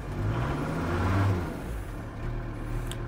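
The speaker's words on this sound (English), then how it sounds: "The exhaust is blowing, so the exhaust is shot." A VW T4 Razorback van with 99,000 miles and a shot, blowing exhaust runs nearby with a rough, low engine rumble and a brief swell around the middle before settling, with no talk.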